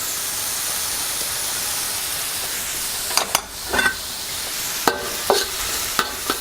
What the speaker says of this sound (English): we're going to stir fry this for a couple of minutes